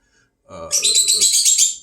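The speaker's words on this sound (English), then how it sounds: "just look at the birds coming on the crown right now" Birds chirping outdoors, a rapid, loud run of high tweets that starts abruptly and sounds close, over a low murmur at the start.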